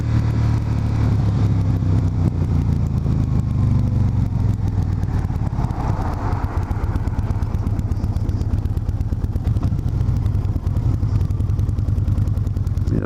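A cruiser motorcycle pulls away with a loud, close engine rumble that rises and settles as it rides off, with some clatter and no talking.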